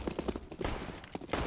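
AK rifle fire in a Counter-Strike match on the Cobblestone map, several quick cracking bursts in short clusters, fairly faint and trailing into a noisy mix.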